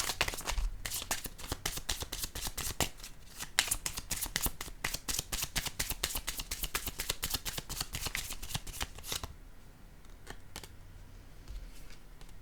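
Playing cards shuffle in rapid riffling bursts during a tarot-style card reading, a dense crisp flutter filling most of the stretch before trailing off into a quieter rustle near the end; no one speaks.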